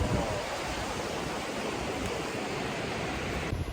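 Steady, broad wash of ocean surf rolling onto the sandy beach of Chirihama Nagisa Driveway at sunset, a continuous close roar with no distinct breaks and no voices.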